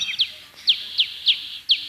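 A dove, released in a staged Bible-story scene at a camp, is represented by a series of five short, bright chirps spaced about half a second apart, clear and fairly close with no talk over them.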